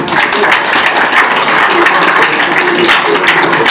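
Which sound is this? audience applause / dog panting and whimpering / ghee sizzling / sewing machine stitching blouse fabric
audience applause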